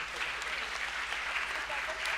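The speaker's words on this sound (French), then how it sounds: "Applaudissez le Seigneur." A church congregation applauds the Lord, with continuous clapping from many hands at a fairly faint, distant level and an even texture throughout.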